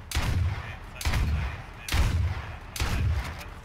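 Four loud, evenly spaced gunshots in the video game H1Z1, each a sharp close blast with a short decaying tail, about one second apart.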